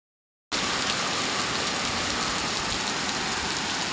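Steady rain falls in a dense, even hiss that starts abruptly after half a second of silence and holds at a constant loud level to the end, with no voices.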